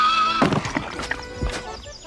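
A horse whinnies over soft thumping hoof sounds on a cartoon-style animal show, a short, fairly close neigh with a few clip-clops.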